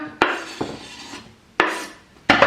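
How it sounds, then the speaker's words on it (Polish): Slices of cucumber for a tuna salad dropped into a bowl, several soft clattering impacts spaced unevenly, close and alone with no talk. "Do miski wrzucamy ogórka."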